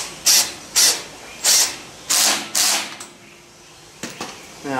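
A screw is driven into a clamped part of a fabricated Victorian-style garden bridge in five short, loud whirring bursts, followed by a couple of brief clattering knocks.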